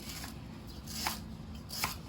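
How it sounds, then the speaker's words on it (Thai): Knife chopping lemongrass on a board, a few sharp, irregular cuts over a low steady hum, no talking. "แล้วก็หั่นตะไคร้นะครับ"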